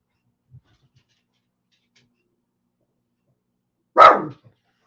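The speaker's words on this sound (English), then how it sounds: "Ray, don't bark" A dog lets out a single loud, sharp bark near the end, after a long near-silence broken only by a faint tiny tap.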